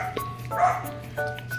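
A dog barks on a rural walk past a farm plot: a few short, fairly faint barks and yelps at a distance under background noise, with a person talking nearby.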